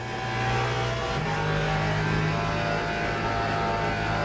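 A Le Mans GT3 race car in Le Mans Ultimate, a lower-powered version than the regular GT3, holds a loud, steady engine drone that steps up slightly in pitch after about a second and then runs on evenly, with no talking.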